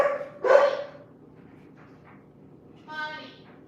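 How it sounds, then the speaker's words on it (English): Several dogs bark indoors, starting with a sharp burst, then a few quieter yips and a second strained bark a few seconds later, with household quiet between. "Let me see what the dogs are barking at."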